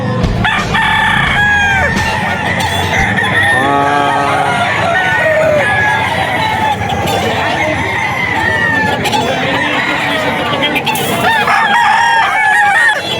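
Several roosters crow loudly and repeatedly, overlapping one another amid constant clucking and dense poultry-yard noise.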